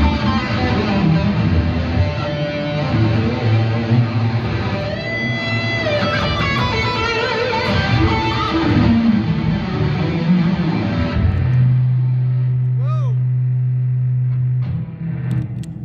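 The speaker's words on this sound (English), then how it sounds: "And I've just been experimenting with the distortion as well." Distorted electric guitar played through a Tech 21 Richie Kotzen RK5 Fly Rig with the drive at full, loud chords and single-note runs ending on a long sustained tone.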